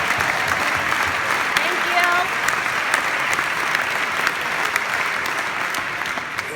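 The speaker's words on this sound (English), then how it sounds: "we want to clap for them too" A legislative chamber at session close erupts in loud, sustained applause for the staff. Dense clapping runs from start to end with a few voices heard beneath it.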